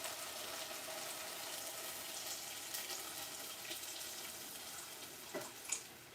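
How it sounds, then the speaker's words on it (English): Water poured into a cooking pot of broth in a home kitchen, a steady quiet splashing stream that stays even throughout, with a brief clink near the end. "And we're going to pour some water in her."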